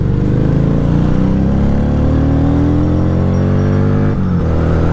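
An FKM Victorino 250i V-twin motorcycle accelerates under throttle for an overtake. The engine note climbs steadily in a loud, close drone and dips briefly at a shift near the end.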